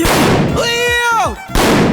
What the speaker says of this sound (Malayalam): വെടിവെക്ക് മേഡം